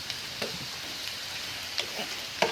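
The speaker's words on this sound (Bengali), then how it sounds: "এখন করলাটা আমি নাড়াচাড়া করে দিব।" Bitter gourd with shrimp stir-fried in a pan, giving a soft, steady sizzle with a few light scraping clicks from the stirring, quiet and continuous with no talk.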